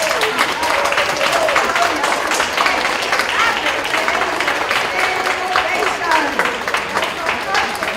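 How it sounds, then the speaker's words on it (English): An audience at a school board meeting claps steadily for the whole stretch in a dense, even wash of applause, with a faint murmur of voices underneath. "let's give them a round of applause"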